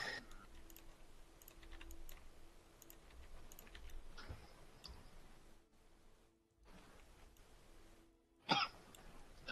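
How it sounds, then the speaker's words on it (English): A hoarse cough breaks out near the end during a Fallout Cascadia live stream, loud and close over quiet keyboard typing and clicking, with an earlier softer throat sound and a brief lull before it. "I'm sorry about the cough."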